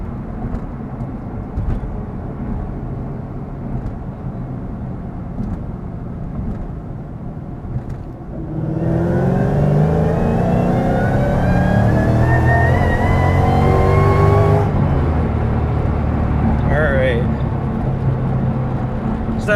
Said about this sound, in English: That was spinning the tires pretty good.